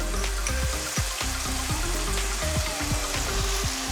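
Finely diced ginger and garlic fry in hot oil in a pan, a steady close sizzle with busy crackling and spitting that runs through the whole stretch.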